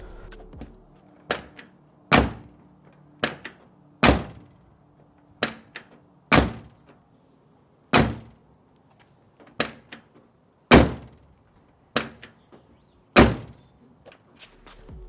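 Car doors fitted with new door bushings swing shut again and again, about a dozen sharp thunks and slams spaced irregularly at close range, each one clear and loud with no talking between them.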